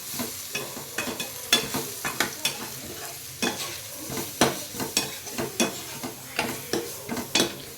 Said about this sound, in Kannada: ಒಂದು ಚಿಟಿಕೆಯಷ್ಟು ಅರಿಶಿನ ಪುಡಿ ಹಾಕಿ ಚೆನ್ನಾಗಿ ಫ್ರೈ ಮಾಡಿ